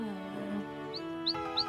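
A small cartoon bird in the Caillou animated series chirps in three quick, high tweets over a soft music bed.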